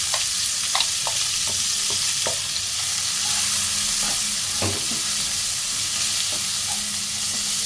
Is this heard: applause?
no